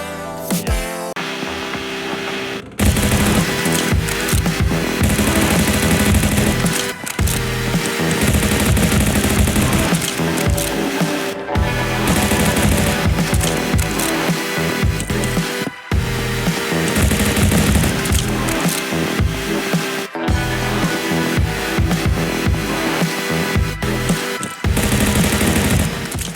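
Sustained rapid gunfire in a self-made horror shooter video game, loud, dense automatic bursts running almost continuously with only brief gaps, no talking.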